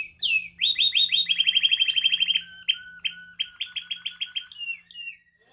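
American Singer canaries at a canary show sing loudly and close by in rapid trilling runs and chirps, several bursts in a row, with a low steady hum underneath.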